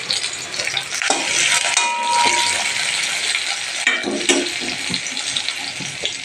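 Chopped onion and garlic fry in coconut oil in a pan, a steady close sizzle broken by a few stirring clinks and scrapes.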